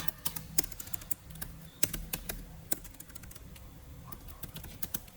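Computer keyboard keys tapped in quick irregular bursts while a prompt is typed, close and fairly quiet, with short pauses between clusters of clicks.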